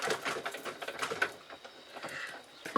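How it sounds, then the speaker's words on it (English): A butterfly being die-cut from card with a detailed Thinlits die in a hand-cranked machine, a faint, quick mechanical rattle and clicking that runs continuously, close and quiet. "you're going to cut it out with the detailed thinlit, like so"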